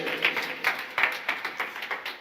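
A congregation at a night prayer service claps loudly and steadily in praise of Jesus, with sharp, even beats about three per second filling the room.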